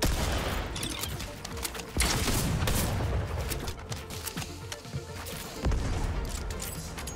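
A blaster ray gun firing in the Fortnite video game, with dense loud bursts of rapid blasts and crashing impacts nearly filling the span, a few sharper booms standing out.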